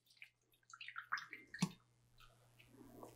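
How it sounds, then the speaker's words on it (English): A hand juicer squeezes half a lime, giving a few brief wet squishes and drips close by, with no talking over them. "I'm going to use my hand juicer to juice the ½ ounce of lime"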